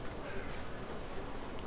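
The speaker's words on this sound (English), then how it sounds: "as you might be hearing a crow in the background" A crow caws from a house roof, a faint, distant call that sits under a steady broadband hiss of room noise.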